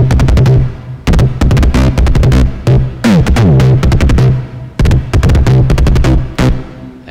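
FL Studio melody pattern with sliding notes: a dense, loud synth line with pitch glides bending between tones over a driving rhythmic pattern, continuous with brief gaps and no voices.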